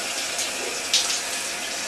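A Moen shower faucet with a freshly replaced cartridge runs hot water, a steady hissing spray that continues alone without any talk.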